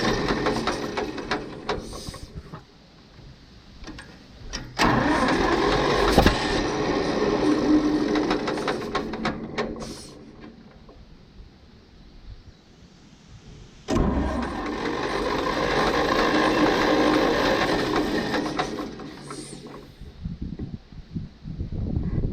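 A 1942 Farmall H tractor engine cranking and catching, loud close bursts of rough mechanical churning that run for several seconds, drop back, then surge again, with clattering in between.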